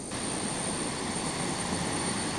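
The jet engine of a large radio-controlled model of the battleship Yamato idles with a steady, broad turbine roar and a thin high whine, loud and unbroken with no talking.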